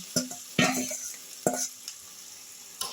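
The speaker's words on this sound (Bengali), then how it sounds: "এই পর্যায়ে আমি ভেজে রাখা চিকেনের টুকরো যেগুলো আমি ফ্রাই করে রেখেছি সেইগুলো সব আমি দিয়ে দিলাম" Pre-fried chicken pieces are tipped into sizzling masala in a pan, bringing three or four sharp metallic clanks of a spatula against the pan over a soft, steady frying hiss.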